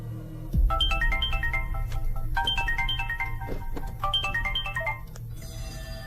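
A phone ringtone for an incoming call in a Hindi-dubbed South Indian horror comedy film. A bright, repeating electronic melody loops three times over a low background hum.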